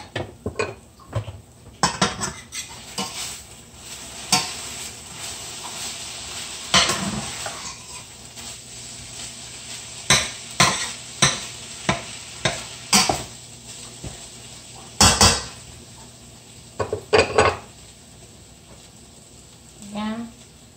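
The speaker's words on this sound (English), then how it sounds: "So I'm going to flip this meat." Meat in a frying pan on medium heat during quick weeknight cooking, with a soft continuous sizzle under repeated sharp clanks and scrapes of a utensil against the pan as it is flipped and stirred.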